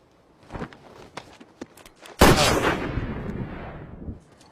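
A few soft knocks and steps, then one loud rifle shot cracks out, leaving a long rolling echo that slowly fades.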